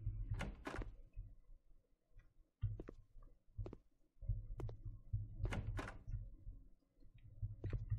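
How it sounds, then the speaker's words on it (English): Doors closing in the video game Run Rooms: a series of quiet, dull thunks and knocks spaced a second or two apart over a low rumbling background, with no talk. "Maybe this guy's closing doors behind me."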